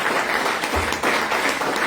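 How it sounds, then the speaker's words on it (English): A crowd gives a round of applause for a new president at an anniversary press conference, a steady, moderately quiet patter of clapping throughout the short stretch. "I want to give a special round of applause to the new president."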